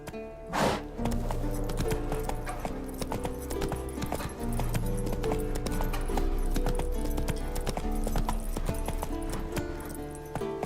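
Roach the horse gallops in Witcher 3, her hooves drumming in a fast, continuous clip-clop rhythm, close and steady, with a brief whoosh at the start.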